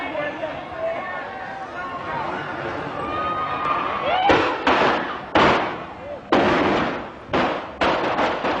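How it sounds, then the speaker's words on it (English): Chinese firecrackers going off at a Robert Kennedy campaign event: after a stretch of crowd murmur and voices, a run of loud, sharp cracks bursts out in quick, irregular succession, each with a brief ringing decay. "What sounded like shots turned out to be Chinese firecrackers."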